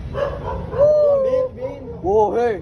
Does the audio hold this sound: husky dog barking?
yes